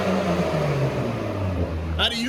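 A tuned Volvo on a dyno holds a steady, loud engine drone that rises and falls slightly, with a brief higher burst near the end.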